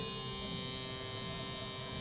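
A VGR V-333 electric shaver runs with a steady, close, unbroken buzzing drone and no voice over it.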